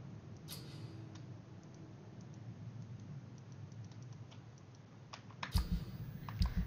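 Fingers tapping on a computer keyboard, rapid soft keystrokes in uneven bursts against a quiet room hum, with a few louder clacks and knocks toward the end.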